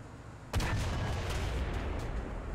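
A tank cannon fires in the War Thunder video game as one sudden loud boom, followed by a long rumbling roar that slowly fades out, with no voices.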